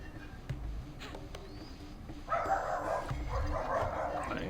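Dogs barking in the Rayman 2 video game, heard over the game's background music and effects. A denser, louder burst of barking and yelping begins about halfway through.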